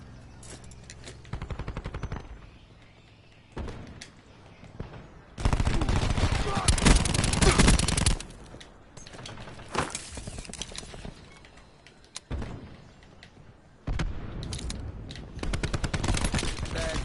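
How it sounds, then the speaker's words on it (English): Sustained bursts of automatic gunfire from a sentry gun in the online shooter Call of Duty: Black Ops 4 hardcore mode, loud, long rattling volleys separated by brief gaps, with other game sounds between them. "That sentry gun is useless."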